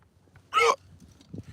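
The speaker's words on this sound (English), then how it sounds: "I got the hiccups for some reason." A single sharp hiccup from a man stands out once, brief and close, against quiet outdoor background with faint murmuring afterward.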